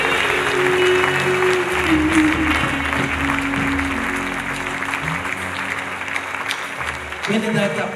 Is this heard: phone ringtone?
no